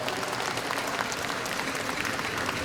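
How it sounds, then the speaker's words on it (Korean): An audience at a Korean commemorative event for the birth anniversary of Park Chung-hee applauds a president, a dense, steady clapping from a large crowd that holds at full strength. "대통령 인사 박수 한번 부탁드립니다"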